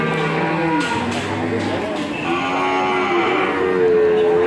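A seven-month-old Limousin cross calf moos repeatedly in drawn-out, wavering calls close by, with a few sharp knocks in between and no talking.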